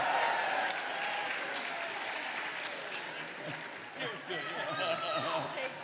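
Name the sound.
audience applause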